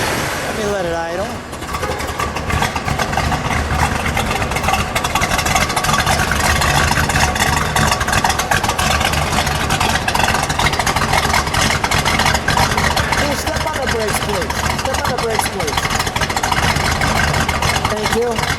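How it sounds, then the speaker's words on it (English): A 1973 Buick Century Gran Sport Stage 1 with its 455 V8 idling steadily, a loud, even rumble running throughout after a brief start-up flutter, with a voice heard briefly. "Let me let it idle."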